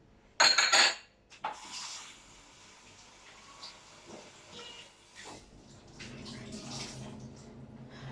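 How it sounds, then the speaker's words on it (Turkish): Clinking dishes and cutlery rattle close by at first as they are loaded into a dishwasher, then quieter handling noises and soft clatter continue with a faint hiss in the background. "Ben şimdi bulaşıkları makineye koyayım."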